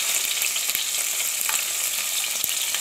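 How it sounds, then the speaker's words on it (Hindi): Chopped onion added to well-heated oil, frying with a dense, bright, continuous sizzle and a few light clicks, close and steady throughout, no voices. "अब हम इसमें डालेंगे थोड़ा सा प्याज, प्याज को अच्छी तरीके से फ्राई करेंगे"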